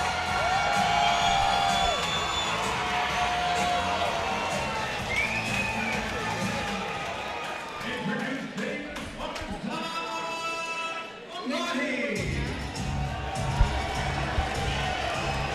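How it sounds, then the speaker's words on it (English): A crowd at an A1 Combat fight event cheers and whoops for fighter Amberson, a sustained roar of mixed voices with shrill whistles rising and falling across the arena. "the crowd went crazy for Amberson"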